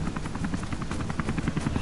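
Helicopter rotors in the video game Rise of the Tomb Raider chop in a fast, steady, pulsing beat at moderate loudness, without speech.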